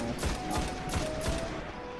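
Auto rifle fire in the video game Destiny, several quick bursts of rapid shots in the first second and a half, loud and close, over a dense bed of game sound.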